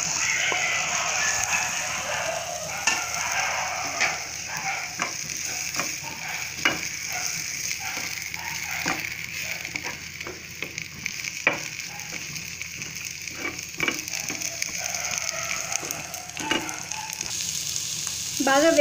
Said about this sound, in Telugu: కట్ చేసి పెట్టుకున్న పచ్చిమిర్చిని వేసుకొని 1 మినిట్ వేగించుకోవాలి